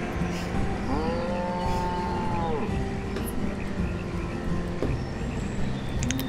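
Cows mooing in the village-building game Banished, a long drawn-out low moo followed by a shorter one, heard over a steady ambient game background.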